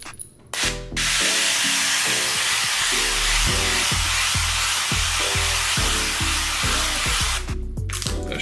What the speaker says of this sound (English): Spray this on top.